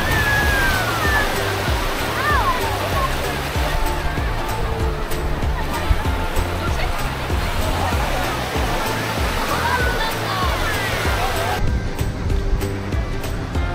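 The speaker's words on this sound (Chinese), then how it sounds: "任凭海浪一遍一遍地在脚下拍打" Sea waves lap and wash steadily on a crowded beach on an island in Zhoushan, Zhejiang, a continuous loud surf noise with faint voices of beachgoers underneath.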